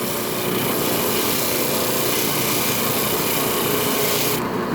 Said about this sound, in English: This is 80 grit sandpaper, 80 grit.